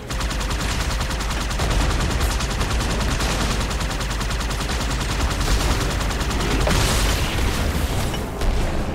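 Enemy gunfire in the video game Halo 2 Anniversary: continuous rapid automatic shots with booming impacts, loud and dense for the whole stretch, swelling briefly toward the end.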